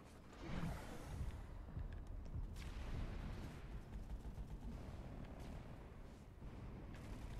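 Rapid gunfire from a new SMG in Planetside 2, with other weapons and explosions at a base, a dense, steady clatter of shots throughout at a fairly low level with little talk.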